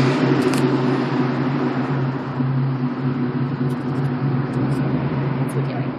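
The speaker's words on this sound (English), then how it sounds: "Apparently he's moving the car." A parked car's engine runs in a steady close hum as it is moved and re-parked, with a constant low drone throughout and faint light clicks on top.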